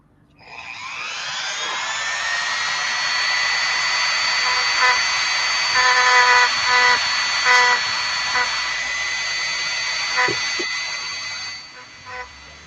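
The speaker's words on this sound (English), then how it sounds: "Sanding down the molding lines on the injection mold lines." A power tool sands down injection mold lines on an action figure, a steady high whine running loud and continuous for most of the stretch, with slight shifts in pitch and brief dips near the end.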